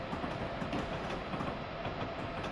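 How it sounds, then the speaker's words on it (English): Northeast Regional passenger train passing on the line toward New Haven, a steady loud rumble of wheels and rail noise filling the whole stretch with faint rhythmic clatter. "And there comes one of those regional trains again."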